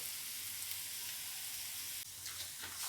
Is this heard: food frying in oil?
yes